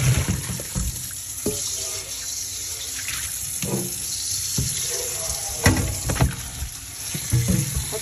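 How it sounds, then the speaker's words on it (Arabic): Tap water runs over cut pieces of meat being rinsed in a sink for a tagine, a continuous splashing stream broken by sharper splashes and clatter as the meat is handled. "دلوقتي انا غسلتها مره واثنين وثلاثه اهو"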